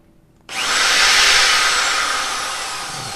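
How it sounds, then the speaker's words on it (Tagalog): A brushless cordless drill with a 13mm chuck starts abruptly and whirs loudly at high speed, a steady close motor whine that slowly eases off slightly. "Tapos itong normal na drill, mas malakas siya."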